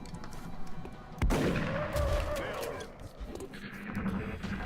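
Soldiers open fire on a Chrysalid during a tactical video game battle, a loud burst of gunshots cracking out and rolling into a booming echo, with more scattered shots and game sounds following.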